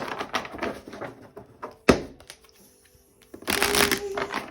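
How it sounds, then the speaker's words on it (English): Cards being riffled and shuffled in quick bursts, with a sharp snap of the deck in the middle, a short pause, then another loud riffle close by. "I'm gonna shuffle this way 3 times"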